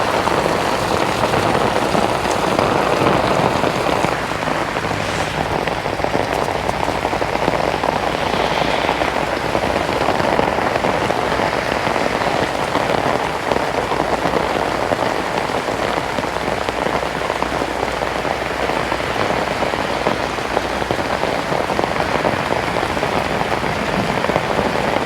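Heavy rain pounding down steadily during a flash flood, a dense, loud, unbroken hiss of drops hitting surfaces all around, with no voices.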